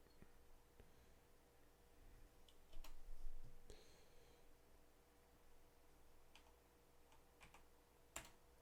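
Quiet, sparse keystrokes on a computer keyboard come as irregular light clicks and taps in a short flurry, with a sharper click near the end.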